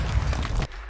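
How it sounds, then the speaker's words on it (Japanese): A Semtex grenade blows up in Call of Duty: Modern Warfare II multiplayer, a loud, close, heavy boom with a deep rumble that stops abruptly after about two thirds of a second. "セブテックスめっちゃ爆発範囲広くない？"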